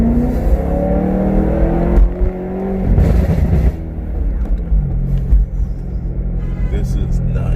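A BMW E92 M3 engine rumbles and revs with a deep, throaty exhaust note through an ACM muffler mod, rising and settling close by, with a few brief voices underneath.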